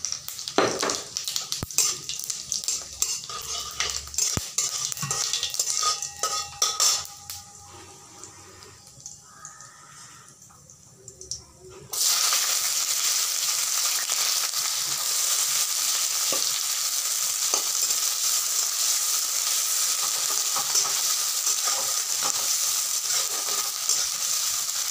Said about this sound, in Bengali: তেলটা গরম হয়ে গেলে আমি শুকনো লঙ্কা আর জিরা ফোড়ন দিয়ে দিব।